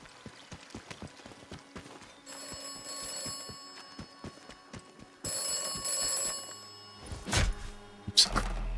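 An old-fashioned telephone rings in the video game Atomfall: a sustained bright ringing bell that starts partway through, over a steady run of hoof-like clip-clop footsteps, with heavier thuds near the end.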